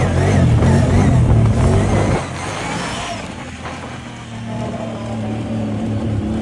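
A Can-Am Outlander G1 800 ATV engine revs hard and loud for a wheelie, then drops to a lower, rougher drone as the throttle eases off.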